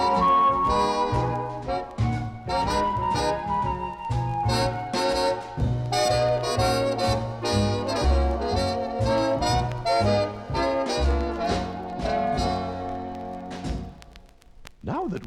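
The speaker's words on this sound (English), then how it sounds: "The Pythagoreans played using a flute and an early version of the bass violin" Flute, bass violin and lyre play together in a lively, continuous ensemble melody with plucked and bowed low notes beneath airy woodwind lines, fading at the end.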